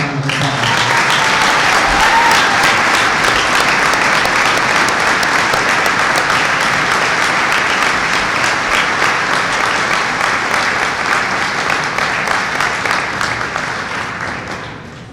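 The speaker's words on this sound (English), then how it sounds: "Please give them all a round of applause." A basketball game crowd in a gym breaks into sustained, dense applause that holds steady at full volume for about fifteen seconds and only starts to thin and fade in the last moment.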